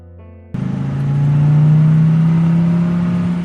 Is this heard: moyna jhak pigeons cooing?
no